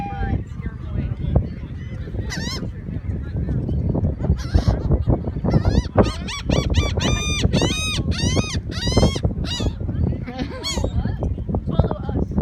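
Seagulls on a Florida beach squawk loudly and repeatedly in harsh, rising cries that cluster thickly in the middle, with people talking and moving nearby.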